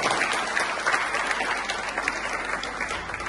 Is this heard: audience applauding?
yes